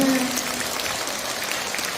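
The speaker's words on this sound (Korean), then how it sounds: "마지막 박수" A seated audience at a laughter and health concert applauds in a steady, moderately loud patter, with a brief voice or tone at the very start before the clapping continues alone.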